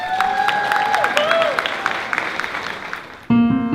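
An audience at a live presentation event bursts into applause: dense, continuous clapping with some cheering that gradually thins out, then stops abruptly as a loud, clear sound cuts in at the end.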